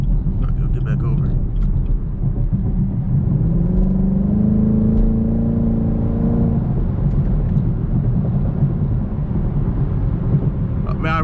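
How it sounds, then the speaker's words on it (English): A 2020 Chevrolet Camaro 2SS V8 cruising on a busy highway, a steady low engine drone with road rumble, a brief rising rev in the middle, heard from inside the cabin. "I really hope y'all can hear this engine"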